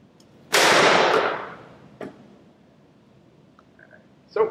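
A MacDev Drone 2 paintball marker fires one loud, sharp shot with a hissing tail, then two softer pops follow at intervals, close by outdoors.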